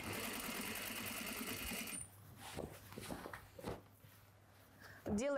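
A sewing machine stitches along a denim tote bag, its rapid motor chatter loud and close for about two seconds, then stopping for quieter handling clicks and rustles as a person speaks.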